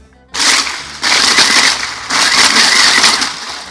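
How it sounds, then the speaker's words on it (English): A blender flash-blends crushed pebble ice for a drink in three short, loud grinding bursts with brief pauses between them, the harsh rattling whir starting abruptly each time. "we're just gonna give this a quick flash blend"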